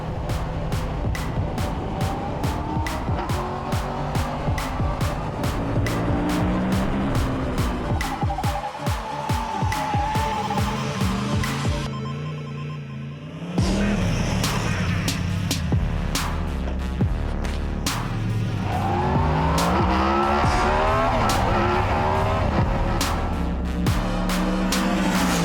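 A Yamaha MT10 motorcycle laps a racetrack, its engine roaring loud and close with rising and falling revs through gear changes, a brief dip partway through, then hard acceleration again.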